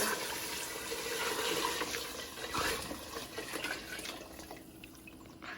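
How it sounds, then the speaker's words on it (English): Water streams from a tap into a pot for Mexican meatball soup, a steady splashing gush that swells slightly midway and then eases off, close and alone. "So now we are going to add in our water."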